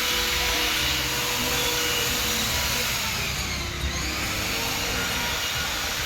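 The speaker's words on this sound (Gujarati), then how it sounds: "એન્જિન ધોવાનું કામ ચાલુ હે" A car engine is washed at a car care garage, giving a loud, steady, high-pressure hissing roar that runs unbroken throughout, close by, with no voices.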